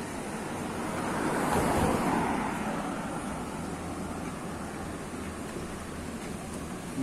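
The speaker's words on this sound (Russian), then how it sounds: "А река все бурлит и не прекращает свой поток" A river in full flood rushes and churns through a city street area in Yalta, a broad continuous roar of water that swells near the start and then holds steady, close and loud.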